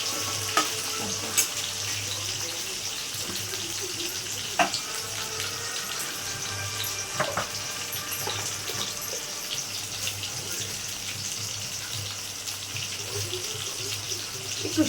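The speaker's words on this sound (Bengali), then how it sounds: "এটা একটু হালকা ভেজে নেব।" Parboiled potatoes frying lightly in a pan give a steady, close sizzle that runs throughout, with a few sharp clicks and clatters of utensils. There is no talking.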